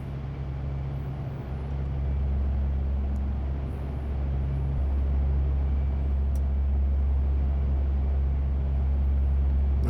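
Four turboprop engines of a C-130J transport in the DCS World flight simulator run at full takeoff power, a steady, loud, deep drone with low tonal hum that holds and swells slightly as the aircraft rolls.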